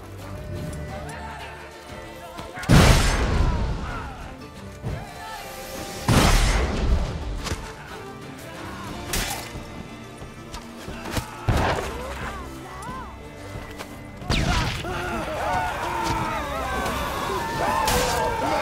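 Bombs going off during combat in Witcher 3: Blood and Wine, several sharp, loud blasts spaced a few seconds apart amid clashing, shouting game voices and general battle noise.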